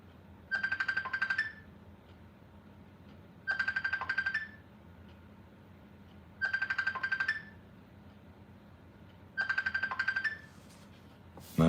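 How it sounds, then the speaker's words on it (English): A phone rings with four evenly spaced bursts of an electronic ringtone, each about a second long, separated by pauses over a low background hum, with no one speaking. "I'm not answering the phone."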